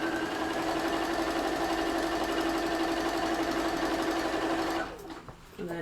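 A sewing machine stitches scrappy quilt rows together, running steadily and loudly for almost five seconds with a fast mechanical whir before stopping abruptly. Softer handling noise follows.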